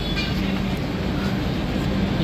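A passenger train rumbles at a railway station, a steady, loud, broad mechanical roar with low droning and faint rattling, continuous and close.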